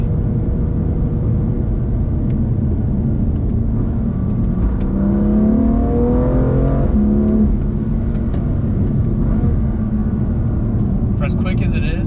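BMW M2 Competition accelerating hard, its engine note climbing through rising, stepped harmonics over steady road roar, loud and close, with a person speaking over the sound.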